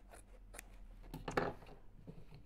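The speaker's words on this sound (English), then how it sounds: "I just missed it with the scissors." Scissors slicing through layers of fabric while a fabric bag is being slashed, giving close, soft, crunchy snips that build to a firmer cut about halfway through, with no talking.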